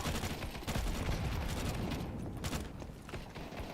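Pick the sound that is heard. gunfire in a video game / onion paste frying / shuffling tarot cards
gunfire in a video game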